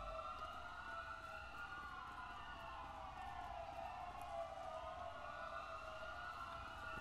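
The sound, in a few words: police sirens in GTA V video game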